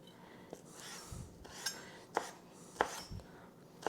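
Knife slicing folded basil leaves into a chiffonade on a cutting board, a handful of light, quiet taps and scrapes at irregular spacing, close and alone.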